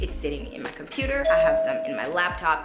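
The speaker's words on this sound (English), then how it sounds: "And that was my doorbell" A doorbell chime rings with a sustained tone in a home while a person keeps talking over it at close range.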